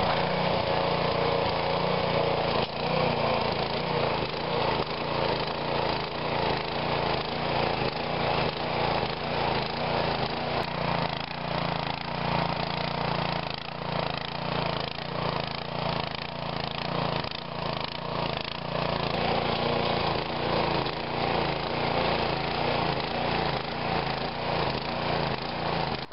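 A garden tiller churns soil at about 8 inches deep for fall garlic planting, its small engine running loud and steady without pause, with faint rhythmic pulsing from the tines.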